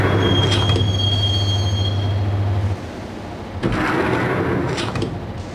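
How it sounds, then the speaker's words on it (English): Train ride inside the Max Payne video game, with a steady rumbling rail hum and a high squealing tone at first, then a brief lull before the clatter of the moving carriage swells back in. "the train doors had already shut behind me, and I was in for the ride"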